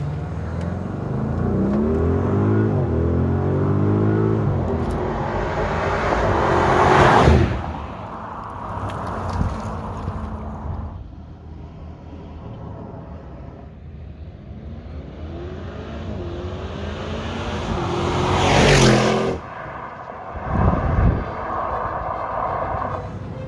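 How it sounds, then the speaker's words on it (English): Audi RSQ8 SUV launched hard from a standstill in RS mode with traction control off, the engine roaring up through loud rising sweeps, a brief drop around a gear change, then another surge building to a peak. "Switching on the RS mode. Turning traction control off. Slotting the gear to drive and taking off."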